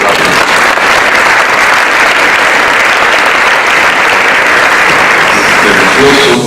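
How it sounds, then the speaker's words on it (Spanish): Dense audience applause at a theology panel event, steady and loud for the whole stretch, a full room clapping continuously with little variation and only faint voices underneath near the end. "Le damos un fuerte aplauso."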